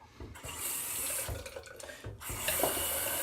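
Tap water runs steadily into a sink to rinse off, a close, continuous splashing rush that dips briefly twice before picking up again.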